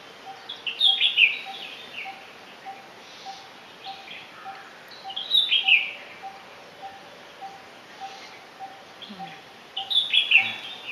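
Small birds chirp in short bright bursts that recur every few seconds over a quiet, soft background hum.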